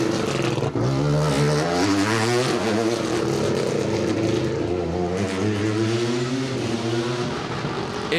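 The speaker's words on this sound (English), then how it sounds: "It is a fabulous sounding thing, that Yaris Rally 2, isn't it?" Toyota Yaris Rally 2 rally car on an asphalt stage of the Manx Rally, its engine loud and close, revving hard with rising and falling pitch through gear changes and no voices over it.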